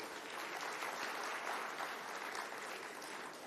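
Audience at an international summit in Lucknow clapping, a dense, steady round of applause from a crowd in a hall, holding even throughout and tailing off slightly at the end.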